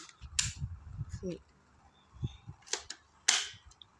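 Toy Uzi gun firing in a few sharp, snappy cap-gun-like cracks spaced irregularly, close and fairly loud, with some low muffled handling sounds between shots.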